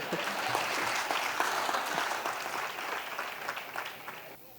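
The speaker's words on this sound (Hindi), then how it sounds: "देखो तालियां बजा रहे हैं।" An audience at a live Hindi interview talk claps in dense, steady applause for about four seconds, then the applause fades out abruptly.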